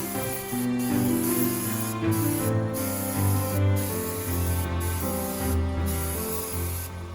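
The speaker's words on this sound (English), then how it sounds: "I'm airbrushing the ganache skirt using white cocoa butter" Airbrush spraying white cocoa butter onto a ganache cake skirt, a steady continuous hiss running throughout with brief pauses, heard over soft background music.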